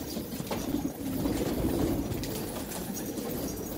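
Pigeon handled up close, soft cooing and rustling feathers over a steady low background hum, continuous for a few seconds.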